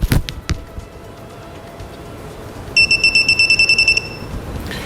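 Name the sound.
torque wrench beeping at set torque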